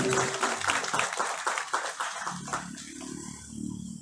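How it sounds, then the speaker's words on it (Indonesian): A crowd at a religious lecture claps briefly, a burst of scattered applause that fades within a few seconds, followed by murmuring voices. "Tepuk tangan dulu untuk kita yang hadir pada hari ini."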